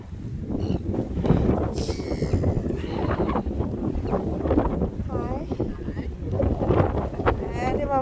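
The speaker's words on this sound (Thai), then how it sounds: "ลมแรงมากค่ะทุกคน" Strong wind roars and buffets the microphone continuously, with faint voices and bird calls in the background.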